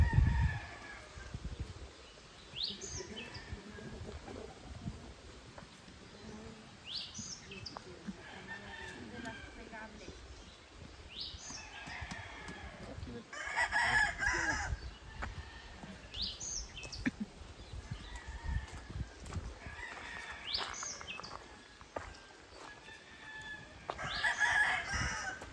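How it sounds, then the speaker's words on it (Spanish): Roosters at a cockfighting farm crow repeatedly, several drawn-out calls spaced every few seconds at varying distances over clucking and rustling, with voices talking faintly in the background. "Miren qué bonitos gallos."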